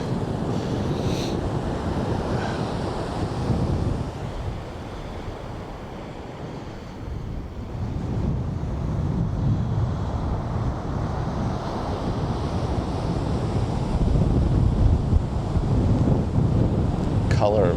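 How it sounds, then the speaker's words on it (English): Ocean waves wash onto a beach in Orkney under steady wind, a broad continuous roar of surf with gusts buffeting the microphone, swelling slightly louder toward the end. "Oh, we're on the beach."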